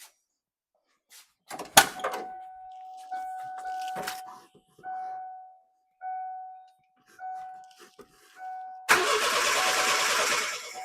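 The engine of a 1988 Ford Ranger that had sat unused cranks repeatedly in several short bursts of whirring starter noise without catching, followed by a loud rush of broadband noise.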